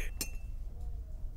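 A metal teaspoon is set down beside a tea cup, giving one sharp, bright clink close by that is followed by a faint ringing and then a quiet room.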